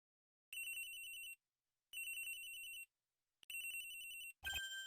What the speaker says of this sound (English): The phone. Who's calling me at a time like this?